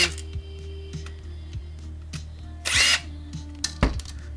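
A power drill backs screws out of a US Robotics 56k modem being scrapped for metals, with a low steady hum underneath, small clicks and handling taps, and a short loud whirring burst near the middle.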